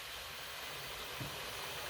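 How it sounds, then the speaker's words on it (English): A flameless MRE ration heater, activated with water, hisses out steam in a steady, loud broadband rush that holds without a break from start to end. "Look at that steam. Wow, it is going. Very loud, and it's already getting super hot."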